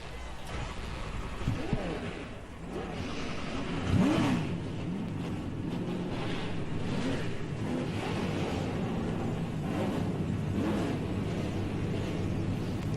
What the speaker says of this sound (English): 43 cars come to life.